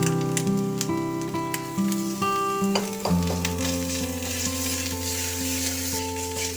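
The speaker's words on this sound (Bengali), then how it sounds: "এবার পেঁয়াজ, আদা, রসুনের কাঁচা গন্ধ যাওয়া অবধি আমি একটু নাড়াচাড়া করে নেব।" Onion, ginger and garlic paste sizzles steadily in hot oil while being stirred for a Bengali prawn malai curry, with a constant frying hiss, occasional utensil scrapes and a faint low hum in the background.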